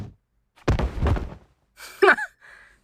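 A punch or headbutt impact in the game Blue Archive: a short blunt thud followed by a heavy rumbling hit, then a brief voiced gasp-like cry and a fading tone.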